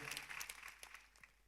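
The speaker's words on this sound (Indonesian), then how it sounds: "Beri tepuk tangan bagi Tuhan kita" A church congregation claps together during a worship service, a brief, faint wash of many hands that fades quickly.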